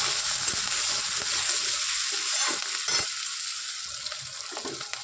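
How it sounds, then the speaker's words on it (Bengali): Onions frying with salt in a pan for a chicken curry, a soft steady sizzle with occasional stirring scrapes, close and fairly quiet, no voices. "দেখুন এবার আমি লবণটা দিয়ে দিলাম, তাহলে পেঁয়াজটার সাথে মিশে যাবে, ভাজাটা হয়ে যাবে"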